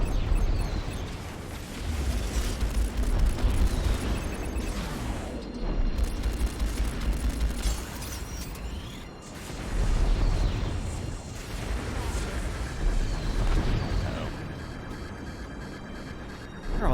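Missile swarm launch in the space combat game Strike Suit Zero, a dense, continuous barrage of rumbling explosions and rapid gunfire-like blasts that surge and fade across the whole stretch, loud and unbroken.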